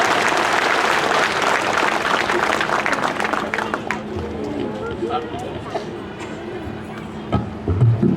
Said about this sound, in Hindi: तो आइए जोरदार तालियों से स्वागत करते हैं वापस पूरे ग्रुप का।